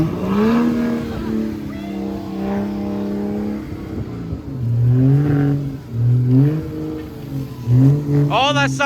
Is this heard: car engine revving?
yes